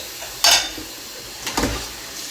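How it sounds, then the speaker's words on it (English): Dishes being washed at a kitchen sink, with two brief clattering knocks of dishware, the first loud and the second softer, against quiet room background. "I can do my dishes quickly and then I don't even have to worry about them later because they're done."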